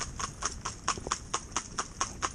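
A pair of Shetland pony mares, driven bitless and blinkerless on a cold day, clip-clop steadily with about eleven crisp, evenly spaced hoofbeats, close and clear with no talking.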